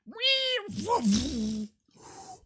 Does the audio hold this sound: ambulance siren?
no